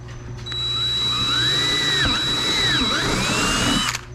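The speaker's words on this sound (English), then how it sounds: "Drill us another hole." Power drill boring a hole through a UTV fender while fitting mud flaps on a Polaris General XP 1000: a close, loud whine that spins up, holds with wavering pitch as the bit cuts, then stops after about four seconds.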